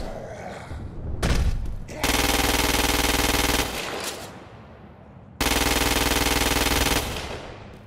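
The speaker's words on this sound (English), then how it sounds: "The ordnance you now hold is a standard-issue agency assault rifle." Crackdown 2 video game: a standard-issue agency assault rifle fires in two long sustained automatic bursts after a short single shot, loud and close, with game ambience between bursts.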